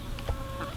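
A chicken beside a Premier One electric poultry fence clucks in a few short, close bursts over a steady outdoor background.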